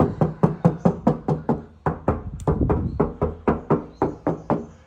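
Knuckles rap steadily on the metal body panel of a 2002 Isuzu Panther LS, about twenty sharp, close knocks in an even rhythm with no talking.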